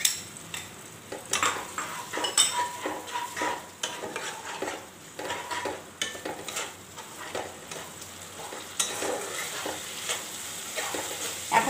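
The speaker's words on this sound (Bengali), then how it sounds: "এখন আরো একটু আমি কষিয়ে নিচ্ছি।" Prawn curry with yogurt sizzles in a pan as it is stirred and fried, with rhythmic spatula scrapes and clinks against the metal over a continuous crackle.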